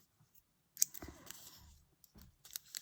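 Scissors snip loose threads on a fabric ruffle, a few sharp, close cuts and clicks separated by quiet pauses.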